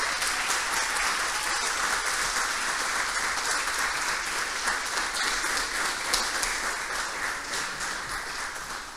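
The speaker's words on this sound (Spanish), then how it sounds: "Un fuerte aplauso les pido para todos." A crowd applauds continuously at a startup demo day, dense clapping holding steady for several seconds before tapering slightly at the end.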